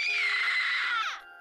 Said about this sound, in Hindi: फिर एक चीख